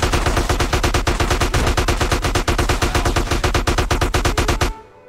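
Rapid sustained automatic gunfire in GTA San Andreas, a loud continuous burst of closely spaced shots lasting several seconds before cutting off abruptly.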